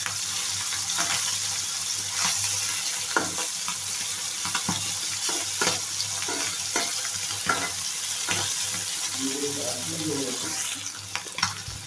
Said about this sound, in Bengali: সুন্দর করে মাছগুলো ভেজে নিলে দেখুন কি সুন্দর করে ভাজতে হচ্ছে